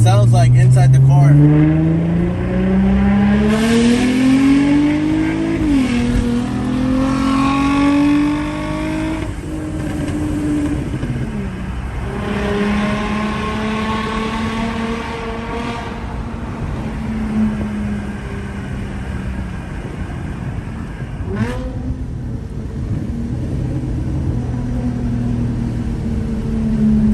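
Cabin view of a modified Infiniti G35 coupe, its exhaust droning loud and steady with rising and falling revs as the car accelerates and shifts, a voice talking over it at times.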